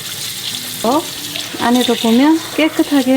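Tap water runs over a whole chicken being rinsed in a kitchen sink, a steady splashing hiss heard up close while someone talks over it.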